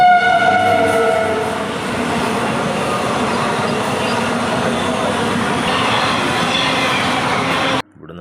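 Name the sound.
train passing at a railway level crossing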